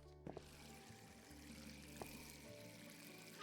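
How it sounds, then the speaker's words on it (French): Water runs steadily from an open tap in a supermarket restroom in the game Before Exit: Supermarket, a continuous soft pouring flow with a few brief knocks, no voices. "Il y a le con qui a laissé le robinet ouvert."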